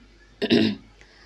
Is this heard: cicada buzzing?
no